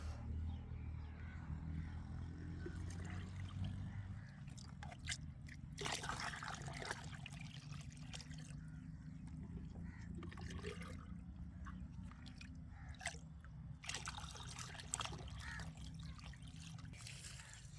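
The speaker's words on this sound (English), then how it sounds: "Give it a gentle stir to mix any settled material and then pour it directly around the base" Liquid wood ash fertilizer is poured and trickled around the bases of garden plants, a steady soft dribbling and splashing of water that continues throughout, close and moderately quiet.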